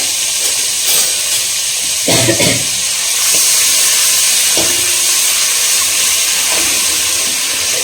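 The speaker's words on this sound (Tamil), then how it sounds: "இஞ்சி பூண்டு பேஸ்ட் நல்லா சேர்த்து அந்த ரோஸ்ட் ஆகணும்" Ginger garlic paste frying in melted butter for a paneer masala gravy: a loud, steady close-up sizzle and hiss throughout, broken by a few scraping stirs of the pan.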